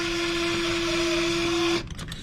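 A surgical drill bores across an external fixation ring on a lower leg, giving a steady high whine that runs for nearly two seconds and then cuts off abruptly into quiet.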